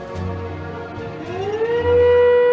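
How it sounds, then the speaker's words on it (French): A wailing air raid siren over Kyiv, Ukraine, in wartime drones steadily, its pitch rising and holding high, loud and sustained with no other sounds. "Même Kiev, la capitale, se réveille sous le bruit des sirènes."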